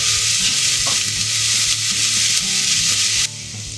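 Onion with a pinch of salt fries gently in a pan, giving a loud, steady sizzle with light bubbling crackle that drops slightly near the end, no voices.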